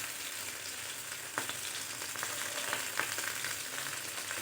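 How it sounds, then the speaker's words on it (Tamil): Small fish frying in a pan of hot oil give off a steady, close sizzle with scattered crackles and sharp pops throughout, and no one speaks. "இப்போது ஒரு பக்கம் நல்லா ஃப்ரை ஆகிடுச்சுன்னா நம்ம ஒவ்வொரு மீனையாக இப்படி நல்லா இப்படி திருப்பி விட்டுக்கலாம்"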